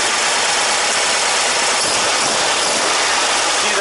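An engine fitted with dual EMPI 40HPMX carburetors that are out of sync idles with a steady, harsh, hissing roar, close and continuous without a break.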